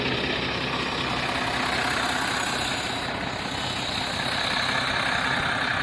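Heavy truck with a Brazilian 7.8 engine idling steadily and loudly up close, a constant low rumble throughout with no talk.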